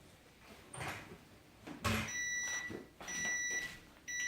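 A series of electronic beeps sounds in short repeated bursts, a high-pitched oven timer buzzer going off among faint kitchen clatter.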